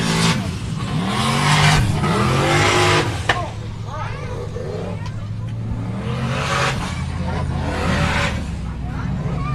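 An Icelandic Formula OffRoad buggy engine revs loudly at a competition, holding steady harmonic drones with rising and falling pitch sweeps across the whole stretch, while voices talk over it.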